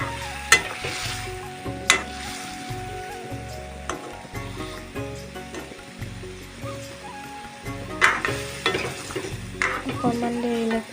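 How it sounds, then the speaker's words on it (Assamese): Boiled cauliflower and potato fry in a pan while being stirred, a continuous sizzle with repeated scraping and clinking stir strokes throughout, close and fairly loud, no speech. "ধুনীয়াকৈ মিক্স কৰি দিম এতিয়া।"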